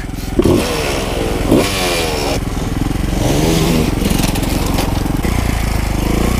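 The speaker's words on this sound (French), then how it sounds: "Tu vas voir ce que c'est les coups de kick là." A trial motorcycle kick-started and then revved outdoors, a close, loud engine catching with sputters and blips of throttle before settling into a steady rough idle.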